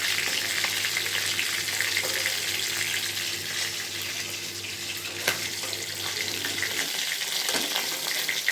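Hilsa fish pieces fry lightly in a wok of hot oil, giving a steady close sizzle that continues throughout, with a faint clatter and a slight change near the end.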